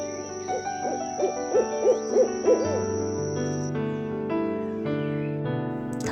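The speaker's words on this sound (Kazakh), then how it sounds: "сова." An owl gives a short series of about six soft, rhythmic hoots, close and clear, over a sustained musical backing with no voices.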